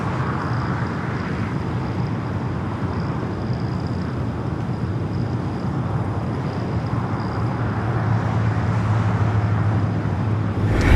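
A Delta Airbus A350-900 heavy jet arrives at LAX, flying in from Seattle. Its steady, broad engine roar is loud and continuous, and it builds slightly toward the end.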